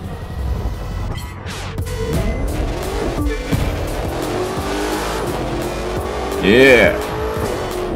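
A Maserati in the racing game The Crew 2 drives with a revving engine and brief tire squeals that rise and fall. Someone talks over it.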